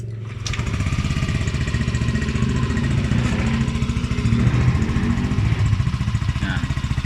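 A Yamaha Aerox scooter fitted with an RS8 version 3 stainless exhaust idles close by, a steady, fast-pulsing, slightly raspy putter after a short clack at the start.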